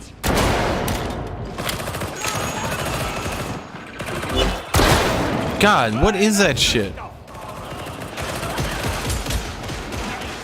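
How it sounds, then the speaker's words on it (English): Rapid lasgun fire from a Warhammer 40k video game, bursts of repeated shots crackling through a loud, busy battle mix while someone talks over it. "That's a las gun, not a las cannon."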